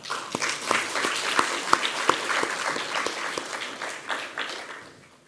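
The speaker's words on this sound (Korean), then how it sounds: "우리 박수 한번 하겠습니다." A church congregation applauds during a Sunday worship sermon, steady clapping from many hands filling the room for about five seconds with a few sharper individual claps standing out.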